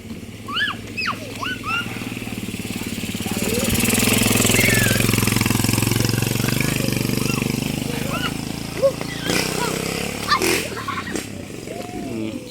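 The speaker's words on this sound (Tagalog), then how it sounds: "Oh, motor." Motorcycle engine passing outdoors, swelling from faint to loud and fading again, a buzzing drone over several seconds with voices and other background noise around it.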